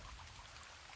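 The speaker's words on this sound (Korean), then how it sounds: "비가 오니까 물이 또 요래 계속 흐르고 하네요" A mountain stream in a valley keeps flowing after thunder and rain, giving a steady, soft wash of running water with a fine patter throughout, fairly faint and without voices.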